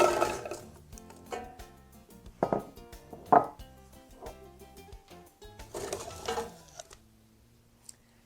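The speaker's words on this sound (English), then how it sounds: "So go ahead and add the apples to a pot." Pieces of Honeycrisp apple tumble into a cooking pot with a few scattered thumps and clatters, over a soft tonal background.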